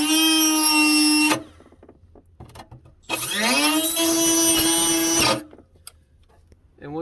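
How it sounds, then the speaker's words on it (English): A die grinder cuts into car body metal near a fuel access cover, giving two loud, high-pitched whining bursts that spin up and cut off, with a quiet pause and small clicks in between. "then we just use the die grinder here and just get a good start like so"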